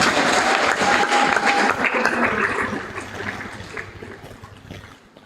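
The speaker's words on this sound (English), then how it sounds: "Please give him a round of applause" Sustained crowd applause for an award recipient at a student mentorship forum, dense and steady clapping that gradually fades toward the end.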